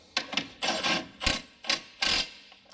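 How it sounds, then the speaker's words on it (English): A power gun spins the wheel bolts down on a Mercedes front wheel with a 21mm socket, in about six short whirring bursts up close with brief pauses between them. "I'm gonna use my little gun to run the bolts down"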